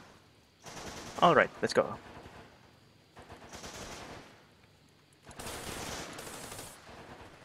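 Gunfire in the military shooter Running With Rifles: a sharp close burst of rapid shots, then softer bursts and a longer stretch of crackling fire, with someone speaking briefly between them.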